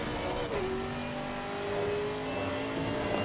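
GT3 race cars in a racing video game at Misano, one engine note rising and then holding steady against a constant background drone of other cars, with no talk over it.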